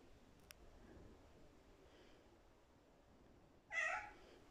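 A cat gives a single short meow, close but soft, over a quiet hissy background, with a faint click earlier.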